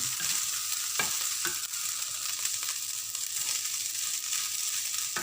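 Leftover cooked rice frying and being stirred in a pan, a steady hiss of sizzling with a few sharp scrapes and knocks of the spatula, close and continuous with no talk.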